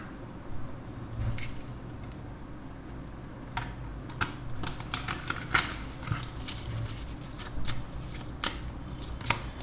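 Tarot cards are shuffled steadily at close range, a continuous papery riffling with frequent sharp flicks and taps over a low room hum, lasting nearly ten seconds without speech.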